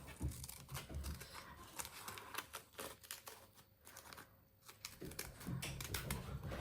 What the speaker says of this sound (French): je vais former le cœur avec les ciseaux crantés comme ça